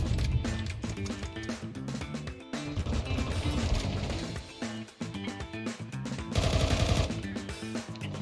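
Rapid video game gunfire from a tactical shooter sprays in dense bursts over a busy game soundscape, loud and continuous with a brief pause midway.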